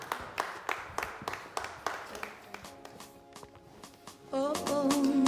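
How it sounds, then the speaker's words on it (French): A studio audience on a TV show set claps in a steady rhythmic beat as the singer comes on, and then music swells in and drowns out the clapping. "Merci de l'applaudir pendant qu'elle nous rejoint sur ce plateau"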